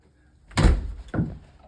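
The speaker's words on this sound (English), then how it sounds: "and close the door." A door being closed from outside by someone reaching back over the threshold: two close thuds, the first a heavy swing and bump, the second a lighter latch click.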